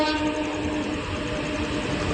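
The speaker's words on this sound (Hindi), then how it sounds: "अब हमारी ट्रेन आ चुकी है" Indian passenger train pulling into a station platform on a pilgrimage route toward Katra, a steady loud rumble of rolling cars and rail noise with a tonal hum, continuous throughout without voices.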